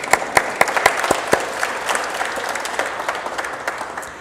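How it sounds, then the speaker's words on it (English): Applause from a crowd at a Bowling Green athletics hall of fame induction ceremony, steady clapping with a few sharper claps standing out early on, continuing throughout at moderate loudness. "yeah, we can clap for him."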